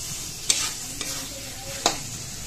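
Tomatoes and masala frying in oil in a pan, a soft steady sizzle broken by a few sharp spoon scrapes as the mixture is stirred.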